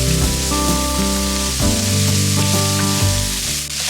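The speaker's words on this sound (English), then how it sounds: "Now we're going to add in our onion. We're just going to saute this for a couple of minutes." Chopped onion sautés in hot oil with a steady, close sizzle and crackle, plus a few light stirring taps, with no talk over it.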